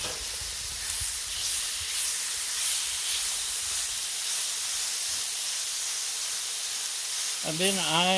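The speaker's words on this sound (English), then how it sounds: "We'll put on the turkey with the seasoning and spices." Seasoned turkey sizzling on a Blackstone griddle, a loud continuous hiss up close, with a voice beginning to speak briefly at the end.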